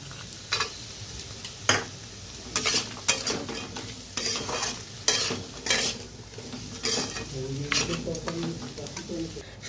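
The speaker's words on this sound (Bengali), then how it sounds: "পুঁই বিচিটা একটু ভাজা ভাজা হয়ে গেলে শুটকিগুলো ছেড়ে দেব।" Dried loitta fish and Malabar spinach seeds frying in a pan, with a soft sizzle under repeated scraping and stirring strokes of a utensil against the pan.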